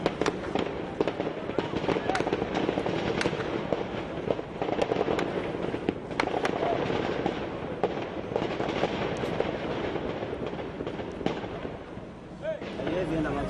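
Rapid crackling bursts and bangs pop continuously, like fireworks or firecrackers going off at a distance, dense and irregular throughout, from a security-forces assault on a Nairobi shopping mall during a hostage crisis.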